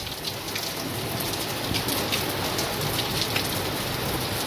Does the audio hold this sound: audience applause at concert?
no